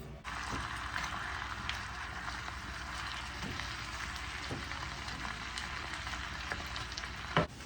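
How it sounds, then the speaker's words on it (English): Ground beef browns on a stovetop with a soft, steady sizzle and occasional light scrapes and taps, plus a sharper knock near the end. "let's get over to the stove and brown our ground beef"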